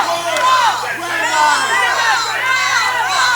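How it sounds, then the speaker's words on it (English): Fight crowd screaming and cheering in an arena, a loud, dense wash of overlapping shouts and whoops rising and falling throughout. "See the crowd screaming to go"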